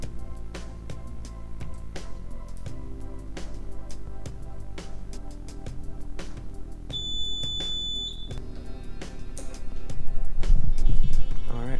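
A multimeter's continuity beep rings out as a steady, high, sustained tone lasting over a second while a GY6 starter switch is tested, set amid background music.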